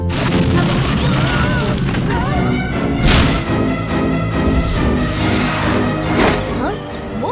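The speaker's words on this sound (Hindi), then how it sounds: "पर इतने छोटे पत्थर से इतना बड़ा धमाका कैसे हुआ?" A loud, sustained cartoon explosion boom with crashing debris and whooshing effects, dense and continuous over several seconds.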